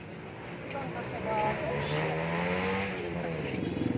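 A Suzuki Raider motorcycle races past on a road, its engine swelling loud and steady as it nears and holds, with a sustained revving drone under mild outdoor noise.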